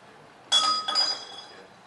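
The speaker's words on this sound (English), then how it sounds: "We were trying to get a broken glass sound, and Joe kept, I don't know." Glass clinking as people try to break it: two sharp, ringing clinks in quick succession with a bright lingering ring, loud and close after a quiet start.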